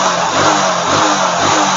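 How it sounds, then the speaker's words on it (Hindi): A Hero Splendor motorcycle engine revs hard and loud up close, a dense continuous roar with slight pulsing as the throttle rises and falls. "बाइक में पिकअप इतना पिकअप है, इतना पिकअप है और कहीं मिसिंग भी नहीं है देखो"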